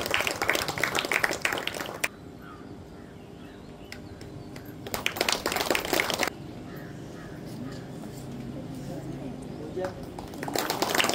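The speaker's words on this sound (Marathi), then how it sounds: "टाळ्या वाजून आपण त्यांचं स्वागत करूया." A church congregation applauds to welcome visiting guests during a service, with bursts of clapping from a crowd near the start, around the middle and at the end, and quieter room sound and speech in between.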